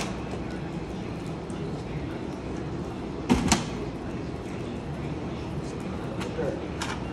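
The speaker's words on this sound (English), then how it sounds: "And you got your screen door." A 2023 Lance 825 truck camper's screen door swings open and shut, giving a short pair of close clattering knocks midway through over a steady background hum.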